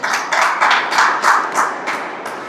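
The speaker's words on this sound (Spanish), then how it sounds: "Dale fuerte palmas al Señor" A church congregation claps together in a steady, rhythmic beat of sharp, fairly close hand claps that continues throughout, with no talking.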